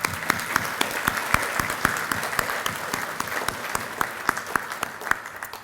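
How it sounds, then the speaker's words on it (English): An audience at a book prize ceremony applauds steadily, a dense wash of many hands clapping with sharp individual claps standing out, close and sustained throughout. "Please join me in applauding them as well."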